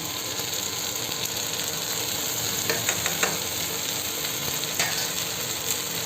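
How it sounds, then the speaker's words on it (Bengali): Soaked turmeric and chili paste added to a hot pan gives a steady, loud sizzle, with a few clicks and scrapes from stirring scattered through it. "এবার এই হলুদ লঙ্কাটা একটু জল দিয়ে রেখেছিলাম এটা দিয়ে দেবো"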